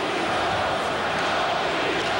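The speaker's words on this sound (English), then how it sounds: "the crowd that's been kind of sitting on their hands starts the Go Leafs Go chant" Arena crowd at a Maple Leafs home playoff game against the Senators, a dense, loud, continuous roar of many voices chanting together, steady throughout with no pauses.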